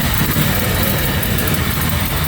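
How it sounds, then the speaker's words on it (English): An engine with an exhaust leak idling steadily with a rough, low rumble and a constant puffing, ticking undertone, loud and close, no voices. "Sounds like an exhaust leak."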